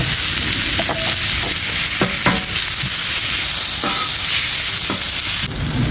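Ground beef for Thai pad kra pao fries loudly in a hot pan, a dense, continuous sizzle with scattered scraping knocks from stirring throughout.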